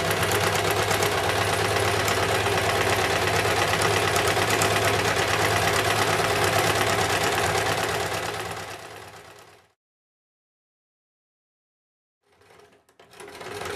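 A sewing machine hums steadily and loudly up close while stitching around the edge of a handmade journal, running continuously for about nine seconds before stopping, then starting briefly again.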